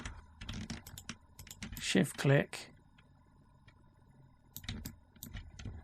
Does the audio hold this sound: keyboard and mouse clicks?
yes